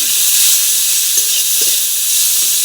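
Masala with chopped tomato sizzles loudly and steadily in a pan as it is stirred for a fish roe and potato curry, a dense close hiss with faint scraping knocks, no talking.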